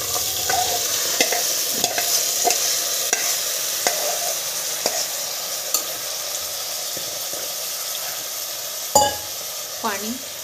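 Rice stirred in hot oil with whole spices in a pressure cooker, a low sizzle under repeated scraping strokes of a spoon against the pot, with a couple of louder clanks near the end.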